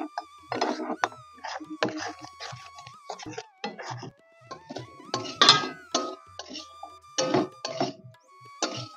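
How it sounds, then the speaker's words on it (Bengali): A utensil stirs fried potatoes and green peas with sugar and salt in a pan, making irregular clinks, scrapes and taps at close range. "এবার একসঙ্গে নেড়ে চেড়ে মিশিয়ে নেব।"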